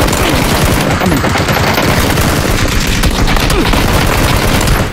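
Rapid, continuous gunfire from an airdrop rifle in a shooter video game, loud and sustained bursts with dense overlapping shots throughout.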